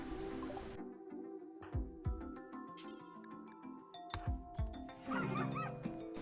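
A dog in a video game lets out a run of short, yelping barks and whimpers, with some tonal game sounds and chimes mixed in and a louder burst near the end.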